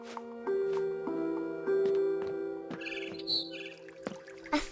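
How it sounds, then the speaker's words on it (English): A barn swallow chirps outside a window in the game What Remains of Edith Finch, a few soft tweets over a sustained musical score. "Then I heard chirping outside my window."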